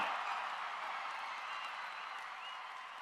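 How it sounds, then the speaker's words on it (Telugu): A crowd at a political meeting keeps up a dense wash of applause that stays fairly even and moderately distant, easing slightly toward the end, with no clear voices. "మా మల్లికార్జునరావు గారు లేచి చప్పట్లు బాగానే కొట్టాడు."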